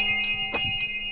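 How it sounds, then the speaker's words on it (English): An emergency bell rings in a rapid series of bright, metallic strikes, about four quick clangs in just over a second, close and fairly loud with no talk over it. "That bell only rings that way when there's an emergency."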